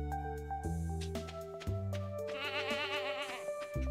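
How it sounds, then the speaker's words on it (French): Farm animals bleating in Stardew Valley, with a goat heard alongside a cow: several nasal, wavering bleats sound over gentle game music and chiming effects. "j'entendais une chèvre en même temps que ma vache."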